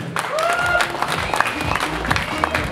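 Guests at a restaurant gathering clap together in a brief, lively burst of applause, with murmuring crowd voices mixed in.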